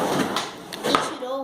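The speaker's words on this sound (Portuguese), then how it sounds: "e abriu uma gaveta." Drawer pulled open as a radio drama sound effect, a short sliding scrape with a couple of bumps, close and fairly loud.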